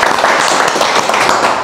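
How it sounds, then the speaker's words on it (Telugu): Dense, continuous applause from an audience at a celebration for a mobile repair course batch in Vijayawada, steady and close for the full moment without any voices. "1 second క్లాప్స్ అంటారు"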